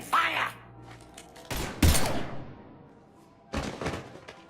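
Mass Effect 3 gunfire from a few sharp, heavy bursts with deep thuds, separated by quiet gaps, with game dialogue partly heard around the shots.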